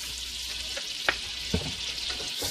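Butter and olive oil melt together in a pot for a seafood gumbo roux: a soft, steady hiss with a couple of sharp clinks of a utensil against the pot.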